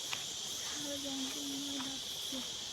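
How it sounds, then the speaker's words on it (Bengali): Crickets drone steadily across a forest trail near Debkund, a continuous shrill chorus holding from start to finish, with a few faint, short tonal calls drifting underneath. "একটা যেন মনে হচ্ছে ঝিঁঝি পোকার ডাক সারা জঙ্গলে"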